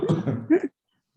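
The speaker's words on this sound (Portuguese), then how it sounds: "eu estou com uma certa tosse" A single person gives a short throaty cough, close and dry, lasting under a second and followed by silence.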